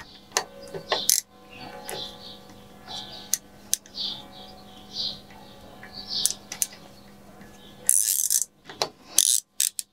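A part of a city bicycle being unscrewed during a restoration: close, irregular ratcheting clicks and metallic mechanism taps come in short bursts over a low steady hum, with a few sharper bright clatters near the end.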